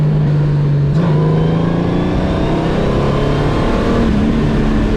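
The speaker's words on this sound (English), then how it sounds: "the Goldwing doesn't have that rumble of the Harley V-twin, but it's got like a NASCAR racing engine sound to it" A Honda Goldwing touring motorcycle engine revs with a smooth, racing-car-like roar, steady and loud throughout, its pitch rising and dipping slightly as the throttle changes, with no voices.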